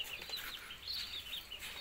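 Javanese chickens in a farm coop give soft, scattered high clucks and chirps over a steady hiss, fairly faint and continuous with no talking.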